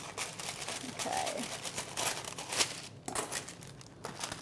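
Baking paper crinkles softly while being handled for gluten-free cinnamon scrolls, faint close rustling and crumpling in short irregular bursts, with a voice speaking quietly at moments.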